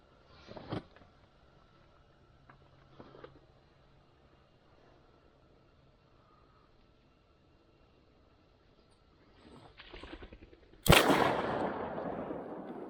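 Shotguns fire while duck hunting outdoors: faint distant pops early on, then one sharp, loud close blast near the end followed by rustling, with wind and quiet murmurs in between.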